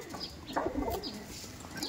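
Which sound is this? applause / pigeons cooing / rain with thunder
pigeons cooing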